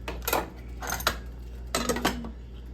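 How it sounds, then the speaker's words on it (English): A spoon stirs pasta in a pot of Joumou soup, giving several clinking, scraping bursts of metal against the pot, close and fairly loud, with short pauses between strokes and no talking. "So just check on it and give it a good mix"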